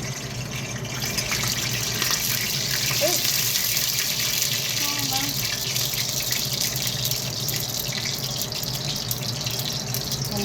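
Hot water pouring steadily into a bowl of cornbread mix for hot water cornbread, a continuous splashing gush that runs the whole time in a kitchen.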